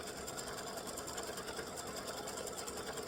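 An embroidery machine stitching lace bunny peep earrings, a fast, steady mechanical whirring and rapid needle chatter, even and continuous, faint and close, with no voices.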